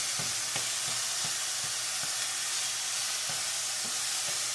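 Pork sausage sizzles steadily in a pan while a utensil breaks it into small bits, with soft scraping taps recurring through the constant frying hiss.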